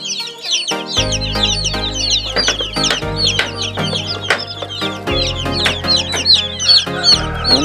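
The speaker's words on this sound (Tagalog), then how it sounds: "Ayan na yung ating sisiyo na 45 days." A flock of 45-day-old chicks cluck and peep constantly, busy overlapping calls close by, loud and steady with no talk.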